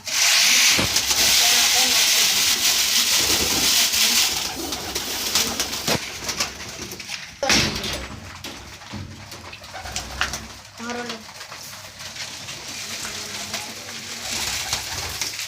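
Pigeons coo while pecking at scattered grain, soft repeated coos heard close against a hissing, rushing background and scattered rustling, with voices murmuring faintly now and then.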